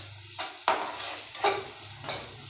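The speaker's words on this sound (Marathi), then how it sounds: "आता मंद आचेवर ती साखर वितळू द्यायची" Rajgira sheera with sugar stirred in a pan over a low flame, four spaced scraping strokes of a spoon over a soft continuous sizzle, close up with no talk.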